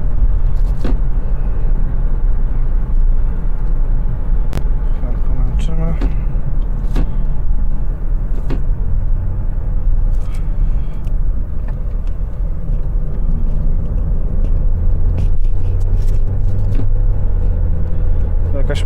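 A car with a DQ200 automatic gearbox idles and rumbles steadily up close, with faint clicks and knocks as it shifts down, while people talk over it.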